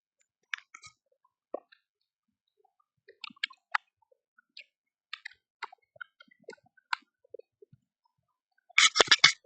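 Someone types data into an Excel spreadsheet on a computer keyboard: sparse, crisp single key clicks spaced apart, then a quick flurry of keystrokes at the end.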